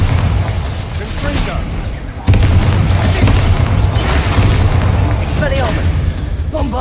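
Bombarda spell blasts in a Harry Potter wizarding video game, loud booming explosions with rumbling debris, a sharp burst about two seconds in, amid continuous battle noise.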